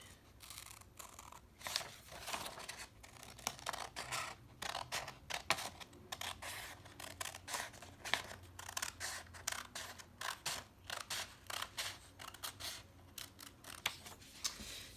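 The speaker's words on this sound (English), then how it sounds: "take your scissors and you cut the paper along the fold that you just created" Scissors snip through paper along a fold for an agamograph craft, a long series of crisp, close, fairly quiet cuts in an uneven rhythm, each stroke a short dry crunch, continuing for about fifteen seconds with no talking.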